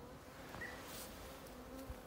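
Steady low buzzing of honey bees at an opened beehive, a faint continuous drone with a few brief individual bee passes close by.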